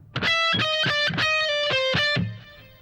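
Distorted electric guitar picks a repeating lick, shifting from triplets into sixteenth notes, about five bright sustained note clusters ringing loud and close with no talk.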